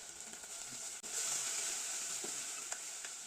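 Green chilies hit hot oil over onions in a pan for bottle gourd curry, giving a steady close sizzle and hiss with a few light clinks and no talk.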